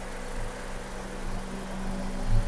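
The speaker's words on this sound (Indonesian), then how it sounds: "suara mesinnya." A 2014 Mazda CX-5's engine hums low and steady at idle, rumbling evenly with slight swells in level, no voices present.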